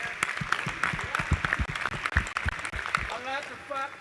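An audience applauds at a gathering with music guests, scattered clapping of moderate loudness mixed with crowd voices and shouts, thinning out toward the end.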